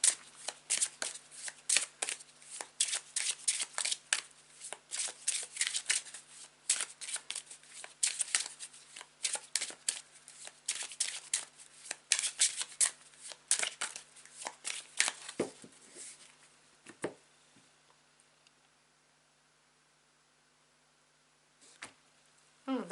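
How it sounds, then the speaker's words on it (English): Tarot cards are shuffled by hand in a long run of crisp, rapid riffling bursts, close and fairly loud, before tapering off into a few quiet card taps and near silence. "I'm sorry if I don't speak much when I shuffle the cards."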